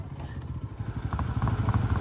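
A motorcycle engine putters nearby on a mountain road at Hulangala, Sri Lanka, in a low, uneven chugging rhythm, moderately quiet and steady throughout.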